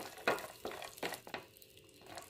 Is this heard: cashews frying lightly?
yes